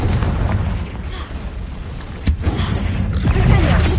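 A Confringo spell bursting in the Hogwarts Legacy video game, booming explosive impacts over a rumbling battle background, with a sharp blast near the middle and swelling noise toward the end.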